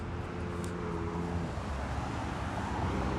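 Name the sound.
heavy road traffic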